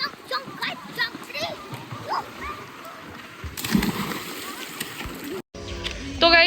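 People jump into water at Jim Corbett National Park, Uttarakhand, making a loud broadband splash midway, with children's and adults' voices and sloshing water around it.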